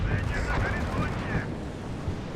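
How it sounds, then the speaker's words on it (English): Incoming enemy mortar fire pounds a battlefield in the WARNO strategy game, a dense, continuous rumble of blasts and crackling impacts with a voice talking over it throughout. "Enemy mortar fire coming in."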